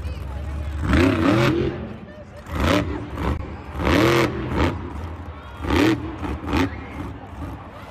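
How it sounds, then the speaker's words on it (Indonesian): A toy monster truck whirs and spins in bursts, its small motor rising and falling in several short revving surges, close and moderately loud, with a voice talking alongside. "Mobil monsternya berputar-putar."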